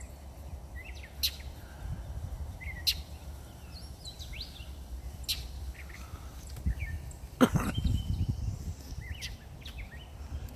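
A bird chirps while harassing a cat outdoors, with short sharp calls repeated at intervals over soft low rustling and a brief louder bump midway.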